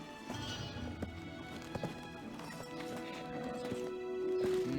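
A horse in Black Desert Online clip-clops in a steady, close rhythm of hoof taps, with a short neigh near the start. Game ambience sits underneath, and there is no talk over it.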